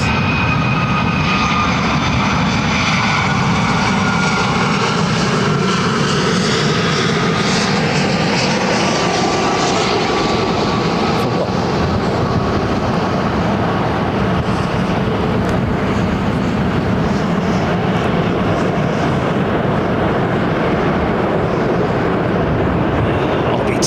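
A jet airplane taxiing at London Heathrow Airport, its engines giving a loud, continuous broadband roar and whine that holds steady for the whole stretch, with no voices.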